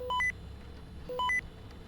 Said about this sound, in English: I'm getting beeps.